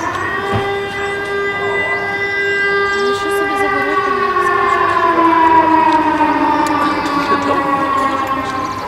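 A civil defense siren wails steadily throughout a kindergarten evacuation drill, its rising and falling tones sustained and fairly loud, with faint voices of children and adults in the background.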